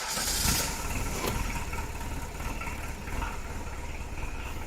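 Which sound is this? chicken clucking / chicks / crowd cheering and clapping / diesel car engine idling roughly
diesel car engine idling roughly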